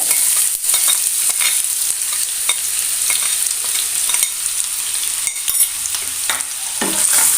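Two finely chopped onions sautéing in ghee in a pan, a constant bright sizzle throughout with intermittent stirring scrapes, near and steady, without speech.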